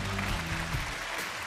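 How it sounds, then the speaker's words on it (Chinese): A studio audience on a Chinese television relationship show applauds to welcome an elderly couple onto the stage. The clapping is dense and sustained, with faint music underneath. "掌声有请这对老夫妻"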